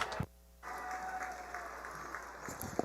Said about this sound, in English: Please join me in offering a warm round of applause for all of our seniors